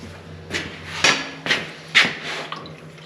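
A metal lid being tapped down onto a paint can with a few sharp, close knocks about half a second apart, each ringing briefly, in a quiet workshop.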